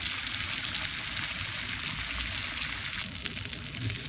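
Rohu fish fillets coated with mustard and poppy seed fry in oil, giving a steady, close hissing sizzle that runs unbroken throughout with no voices.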